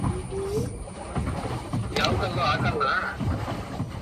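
A pedal boat moves across the lake at Pilikula, with churning water and wind buffeting the microphone beneath nearby voices.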